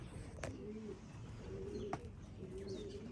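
Homing pigeons returning from a 50-mile toss, with soft repeated cooing and a few brief chirps over a steady outdoor background.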